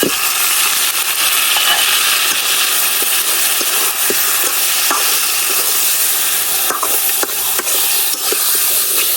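Spiced pangas fish frying with onion in a pan, a steady loud sizzle and hiss running throughout with occasional faint clicks and scrapes, no talking.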